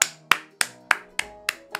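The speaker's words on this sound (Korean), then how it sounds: "박수." Seven single hand claps ring out alone at a steady, slightly slow rhythm, each one sharp and close with a short decaying tail, celebrating a student's long commute for one class.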